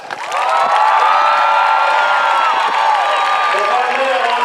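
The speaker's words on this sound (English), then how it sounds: "Give them a round of applause." Loud, sustained crowd cheering and applause for airmen at an Air Force Basic Military Training graduation parade outdoors, with whoops and shouts rising over steady clapping throughout.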